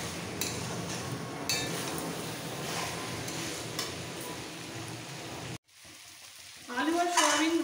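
Potatoes and soybeans stir-fried in a pan give a steady, close sizzle with stirring scrapes. It cuts out briefly near the end, then comes back louder with a few clinks.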